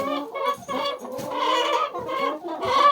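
Hens cluck and squawk continuously in overlapping calls, close and fairly loud, with no talking.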